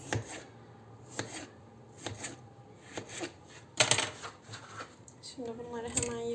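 A knife chops chicken steadily on a cutting board, sharp evenly spaced strikes up close, with a voice speaking softly underneath at the end.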